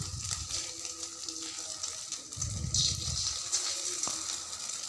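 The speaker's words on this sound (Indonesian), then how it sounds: "kita bikin agak crispy ya dengan api yang besar untuk goreng telurnya" Eggs frying in a small amount of oil over high heat for crispy fried eggs, a steady close sizzle and crackle with a louder surge midway, no talking.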